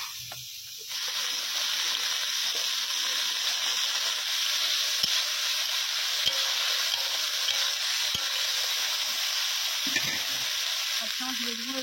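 Okra and potato curry frying in a pan, a sudden loud hiss as the vegetables hit the hot oil, then a steady close sizzle with occasional stirring clicks and a faint voice in the background.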